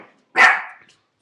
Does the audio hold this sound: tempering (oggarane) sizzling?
no